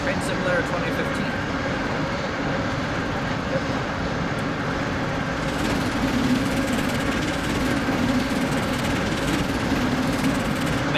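A train running in Train Simulator 2015, heard as a steady, loud rumbling drone with a constant engine hum from start to finish. Nobody speaks.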